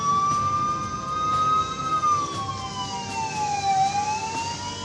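Siren of a rural mobile health-clinic ambulance van, a steady wailing tone that slowly dips and rises again, loud and continuous over road noise with no talk.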